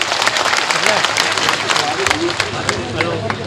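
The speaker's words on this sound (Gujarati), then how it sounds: "એકવાર જોરદાર સંતો માટે તાળીઓ પાડી" A large crowd at a Thakor community mass gathering in Ogad applauds for the saints on stage, a steady dense wash of clapping and crowd noise with a voice briefly heard over it.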